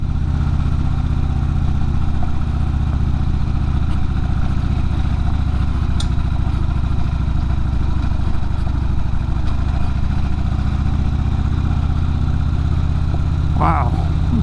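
Adventure motorcycle engine running steadily on a trail, a constant mid-pitched rumble heard up close, with a brief squeak near the end.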